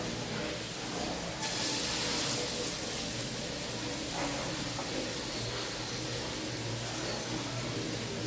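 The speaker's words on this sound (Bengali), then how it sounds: "এবার ডালের বড়াগুলো একটা একটা করে ভাজবো" Lentil fritters fry in hot oil in a pan, giving a steady soft sizzle and hiss that brightens slightly partway through, with no talking over it.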